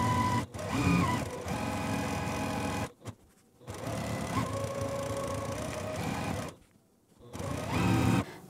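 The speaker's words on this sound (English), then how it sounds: "once I start my sewing machine, I can just sew really fast" A sewing machine stitches rapidly in three quick bursts separated by short pauses, its motor whirring and needle clattering up close.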